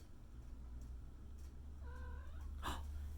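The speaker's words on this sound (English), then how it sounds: "Ooh, my cat." A house cat gives one short, rising meow over a steady low hum of room noise, quiet and a little distant, followed by a brief faint rustle.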